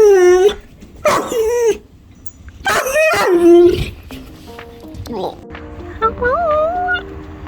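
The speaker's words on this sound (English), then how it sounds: "The dogs are very angry that you're sitting there." Dogs bark and yip angrily in loud, close bursts, with whimpers and whiny high-pitched calls between them; a person talks over the noise.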